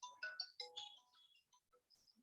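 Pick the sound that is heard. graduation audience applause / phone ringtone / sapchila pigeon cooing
phone ringtone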